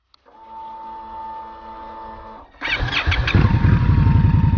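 An Indian Scout Bobber motorcycle idles close by, then the engine note jumps louder and rougher as it pulls away in first gear and keeps building.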